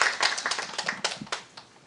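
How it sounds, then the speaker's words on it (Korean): Short burst of audience clapping at a forum on North Korea's economy and inter-Korean exchange, distinct hand claps close and loud, tapering off quickly. "박수 드리겠습니다."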